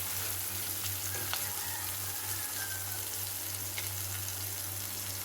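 Chopped onion and green chilli fry in a pan for a potato fry, with a constant close sizzle and faint stirring ticks over a low steady hum.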